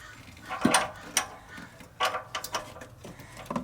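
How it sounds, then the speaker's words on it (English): A wrench works on brake parts of a junkyard Bullnose Ford, producing a few close, sharp metallic clicks and clanks spaced irregularly, with brief ratcheting taps between louder knocks. "we'll try and get it with the wrench"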